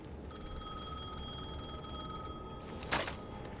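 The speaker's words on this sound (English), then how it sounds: "The phone was ringing again." Telephone in the video game Alan Wake 2 ringing with a shrill, steady electronic bell tone that repeats without break for a few seconds over a low ambient game drone, followed by a short burst of noise near the end.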